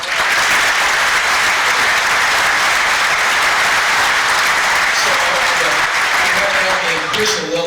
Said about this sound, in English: I think we were remiss if we didn't give them a round of applause